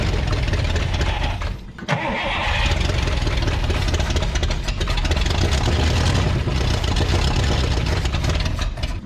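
A 1962 Buick Invicta wagon engine, abandoned 53 years in a salvage yard, roars loudly and roughly as it is revved, with a brief dip before the throttle climbs again and holds a steady, harsh running tone throughout.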